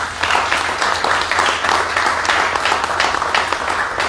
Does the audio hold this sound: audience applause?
yes